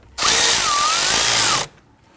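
A power tool spins up to tighten a car battery terminal bolt on a 2013-2019 Ford Interceptor Utility, one steady, loud whirring burst of about a second and a half with a slight pitch wobble, then it stops.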